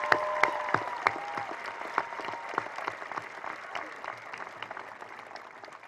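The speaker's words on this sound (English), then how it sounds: "Let's give this valedictorian, salutatorian, the class of 2018, one more round of applause." A graduation ceremony crowd applauds the class of 2018 with sustained clapping, dense and steady from start to finish, with a few sharper claps standing out and faint voices mixed in.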